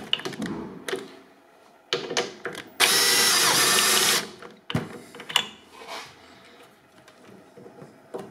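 Hand tool tightening a screw on the front fender of a Classico electric scooter, a busy burst of ratcheting, whirring mechanical sound about a second long, framed by scattered clanks and handling noises nearby.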